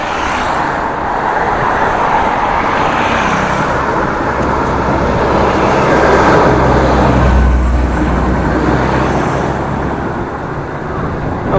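Heavy road traffic with many cars and fewer mopeds passes on the road from Vietnam to China. A loud, continuous roar of tyres and engines swells slightly in the middle and holds steady throughout.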